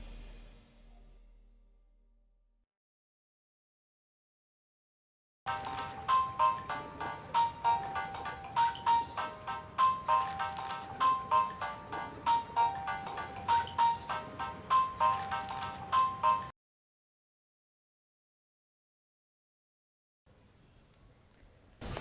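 A phone rings unanswered after dialing: a repeating electronic ringback tone pulses in steady bursts for about eleven seconds, clear and alone, preceded and followed by near silence.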